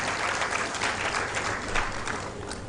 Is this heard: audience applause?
yes